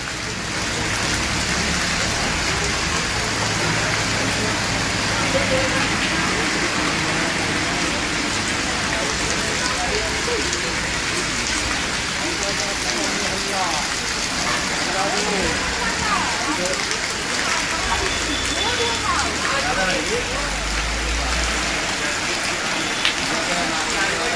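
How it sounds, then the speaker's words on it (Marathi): Sudden unseasonal rain pours steadily in Vaibhavwadi, a dense hiss that stays loud and unbroken through the whole stretch, with occasional low rumbles like passing traffic underneath. "अनेकांची या पा अचानक आलेल्या पावसामुळे धांदल उडालेली आहे"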